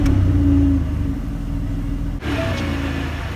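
A 2012 Ford Edge Limited V6 AWD starts up from inside the cabin, its rumble settling into a steady idle heard alone and up close, with a brief dip midway.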